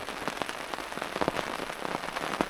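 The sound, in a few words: rain falling during motorcycle camping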